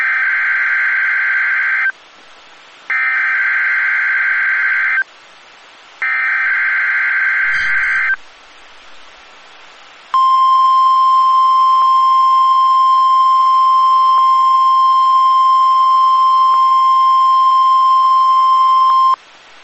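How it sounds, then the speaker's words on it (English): NOAA Weather Radio test tones from the National Weather Service office in Honolulu, Hawaii: three loud, harsh burst tones separated by short gaps, then a long, steady, piercing single-pitch alert tone held for about nine seconds. "The following tones will conclude this test."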